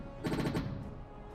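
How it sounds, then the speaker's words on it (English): A Ukrainian armored personnel carrier fires a rapid burst of about five heavy automatic shots in quick succession, loud and sharp, then a fading echo and distant battlefield rumble. "It immediately enters the battle, firing at enemy positions."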